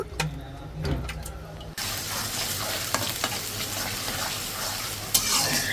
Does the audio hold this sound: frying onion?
yes